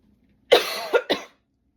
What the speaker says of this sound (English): I just had this weird coughing fit